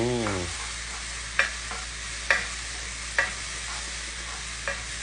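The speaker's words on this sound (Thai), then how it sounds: "ใส่ลงไปทั้งหมดเลยค่ะ ผัดให้หอมๆ" Thai curry paste with shrimp paste is stir-fried in a pan, a steady close hiss of sizzling punctuated by four or five sharp spatula strikes, with a brief voice at the very start.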